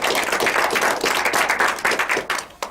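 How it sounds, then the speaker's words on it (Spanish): A room full of people claps warmly, a dense steady round of applause that starts thinning toward the end. "recibamos con un aplauso a doña Elizabeth Alvarado"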